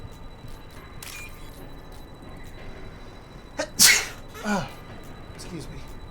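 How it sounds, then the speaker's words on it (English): A single sharp sneeze bursts out loudly near the middle, followed by a softer exhale, against a quiet room background. "Sorry, sneezed."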